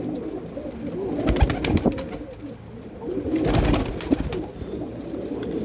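Pigeons gathered from several lofts coo in low, rolling bursts, with a flurry of fluttering wings and scuffling now and then, fairly close and without talk.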